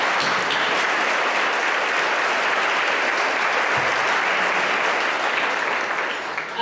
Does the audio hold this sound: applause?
yes